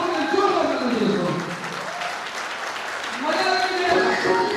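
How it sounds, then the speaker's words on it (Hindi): An audience at a Safe Shop event in Patna claps warmly to welcome guests, in two swelling bursts of applause mixed with crowd noise. "आप जोरदार ताली से उनका स्वागत करेंगे"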